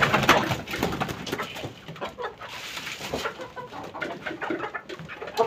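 A flock of chickens clucks and chatters busily up close while eating feed, with rapid pecking and scratching sounds mixed in.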